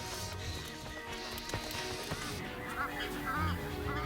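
Birds call with several honking, goose-like cries, faint and somewhat distant over a low background murmur.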